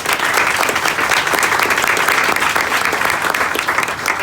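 A large graduation-opening audience breaks into loud, sustained applause, dense clapping filling the room steadily from start to finish with no talking over it.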